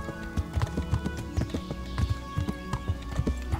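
Horse hooves clip-clop in a steady, fairly close rhythm while riding in the medieval game Kingdom Come Deliverance, with an occasional faint whinny and no talk.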